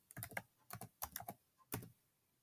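Short bursts of keystrokes on a computer keyboard while entering a value into an online math regression tool, arriving in quick irregular clusters, close and crisp with no voices.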